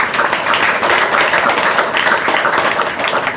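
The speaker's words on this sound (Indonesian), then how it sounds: "tepuk tangan" Loud, dense applause from a gathered crowd of search-and-rescue team members and guests, many hands clapping steadily and close for a few seconds without a break.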